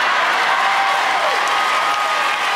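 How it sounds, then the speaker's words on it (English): Loud, continuous applause from an audience, a dense, even roar of clapping that holds steady throughout without a break. "Give a round of applause"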